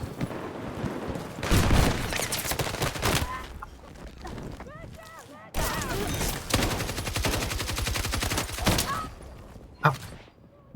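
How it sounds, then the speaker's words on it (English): Shotgun fire in Battlefield 6, loud booming blasts amid other game combat noise, with voices and chatter over parts of it. "Shotgun."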